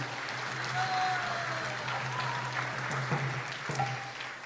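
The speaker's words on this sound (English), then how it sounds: "So please give a big round of applause to them." Audience applause for the cooks at a Sunday feast gathering, a soft, steady wash of clapping heard from a distance with a faint tone over it.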